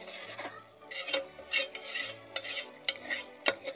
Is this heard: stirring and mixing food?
yes